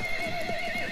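A horse in a video game whinnies loudly and close, a sustained wavering neigh over soft hoof clatter, lasting about a second with no talk.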